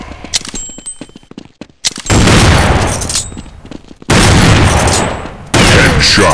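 Gunfire in the online shooter Counter-Strike Online, starting with a few quick sharp shots and then heavy, loud sustained bursts of close weapon fire mixed with metallic clanks.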